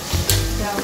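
Whole spices go into hot oil in a frying pan for chicken kebuli: cardamom, star anise and cloves give a steady, close sizzle and crackle with a brief stirring scrape. Nobody talks.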